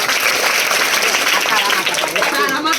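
An outdoor crowd claps loudly and continuously at a street play on Swachh Bharat cleanliness, with a performer's voice speaking over the applause.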